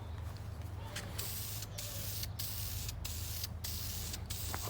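Aerosol spray paint hisses in steady bursts onto a Mazda 13b rotary engine block for an RX-7 build, several short gaps marking release of the nozzle over a low background hum, close and fairly loud.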